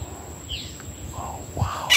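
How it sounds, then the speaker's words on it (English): A wild bird calls outdoors on a nature walk, giving a few brief sweeping chirps at moderate distance over a faint steady high tone and low rumble, with no talking. "That's a bird making that sound."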